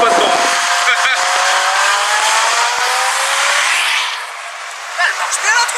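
Peugeot 308 GTI engine racing on track, loud and close, revving high through the gears with rising whine before easing off near the end, then picking back up.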